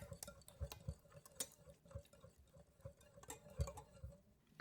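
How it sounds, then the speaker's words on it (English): Cake batter with buttermilk being mixed in a bowl, giving soft, irregular scraping and tapping strokes, quiet and close, with no talking. "Mix it well."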